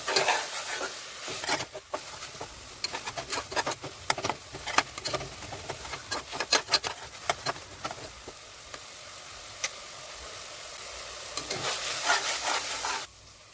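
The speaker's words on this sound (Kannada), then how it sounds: "ಶುಂಠಿ ಬೆಳ್ಳುಳ್ಳಿ ಪೇಸ್ಟ್ ಅದು ಆ್ಯಡ್ ಮಾಡ್ಕೊಂಡು ಚೆನ್ನಾಗಿ ಫ್ರೈ ಮಾಡ್ಕೊಂಡ್ಬಿಡ್ಬೇಕು." Ginger garlic paste frying in a pan, with steady sizzling broken by frequent sharp scraping and stirring strokes of a spoon, close and moderately loud, fading at the very end.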